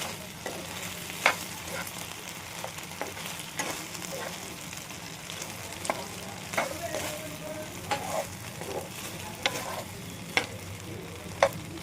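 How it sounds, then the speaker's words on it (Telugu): Schezwan chilli garlic sauce frying in a pan for paneer Manchurian, a steady close sizzle punctuated by regular clicks and scrapes of a spoon stirring against the pan. "కొంచెం ఒకసారి వేయించుకుని తీసేద్దామండి."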